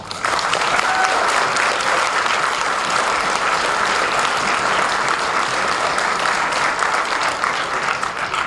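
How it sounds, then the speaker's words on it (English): Loud, sustained applause from the audience at a spring middle and high school orchestra concert, honoring the graduating seniors, a dense, even wash of clapping that carries on for the whole stretch without a break. "please can you join me in a round of applause for our seniors"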